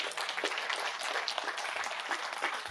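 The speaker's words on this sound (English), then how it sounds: "Give her a round of applause" Audience applause at a veterans affairs women's scholarship awards event for a mentor, a dense, even spread of clapping from a sizable crowd, heard at a moderate distance without voices.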